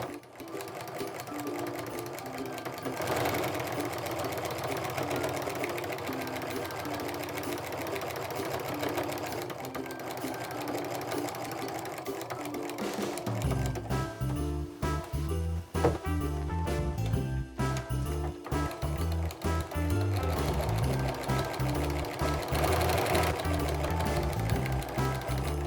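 Sewing machine stitching a small quilted mug rug, a steady close motor whir that shifts into a louder, rapid needle chatter about halfway through, with no talk over it.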